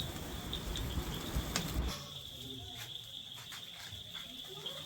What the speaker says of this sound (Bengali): আর ঝিঝি পোকার ডাকটাও অসাধারণ লাগছিল